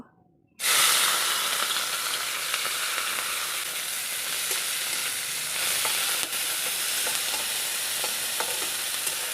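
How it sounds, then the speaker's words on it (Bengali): Dried shrimp hitting hot mustard oil in a pre-heated kadai, bursting into a loud, steady sizzle after a brief quiet start, with occasional stirring scrapes through the frying hiss; no talking. "আমি প্রথমে এই যে চিংড়ি সুটকিগুলোকে ভেজে নেব"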